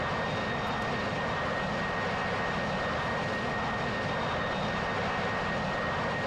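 A Harrier jet passing in the DCS World flight simulator, a steady broad engine roar that holds loud and constant throughout with a thin high whine on top, no voices present.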